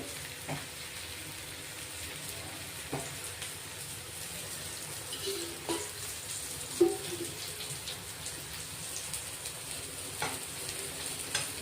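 A breakfast sizzles in oil on a tawa over a gas flame set between low and medium, giving a faint, steady crackling fry with occasional soft clicks and small bursts.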